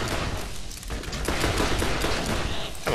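Gunfire in the Borderlands video game, a dense, continuous barrage of shots and blasts crowding the whole moment, loud and close with no pauses.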